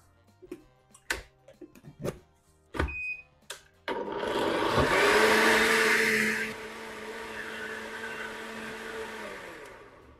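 Several clicks and knocks come first, then a blender roars to life, loud and close, whirring watermelon juice with raspberries for a few seconds before settling to a lower, steadier hum.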